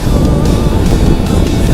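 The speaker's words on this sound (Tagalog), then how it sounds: "Ang sarap ng hangin dito." Strong wind buffeting the microphone on an open bypass road in Plaridel, Bulacan, a loud continuous rumbling roar with no pauses and no talking.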